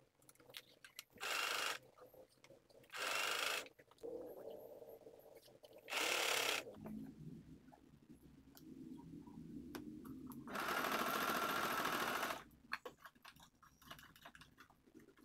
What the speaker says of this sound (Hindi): अब इधर से भी इस पाइपिंग को अंदर मोड़ के हम सिलाई कर देते हैं।